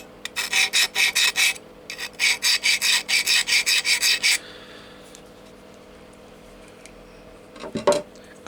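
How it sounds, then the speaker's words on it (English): A serrated knife edge is drawn through a compact camping sharpener in two quick runs of rapid rasping strokes, roughly a dozen each, loud and close, followed by quiet handling and a faint clunk. "So what this is made for is this will sharpen your serrated edge."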